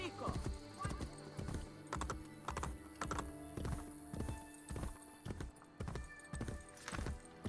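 Rhythmic hoofbeats clop along at a quick, even pace, a galloping horse heard up close with a slightly synthetic, game-like quality, from Assassin's Creed Brotherhood.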